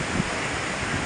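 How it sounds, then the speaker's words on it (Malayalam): Strong wind and heavy rain at a beach during a monsoon storm in Alappuzha, Kerala, a dense steady roar of gusts and downpour, close and continuous, with no talk. "ഉഗ്രം കാറ്റും മഴയും."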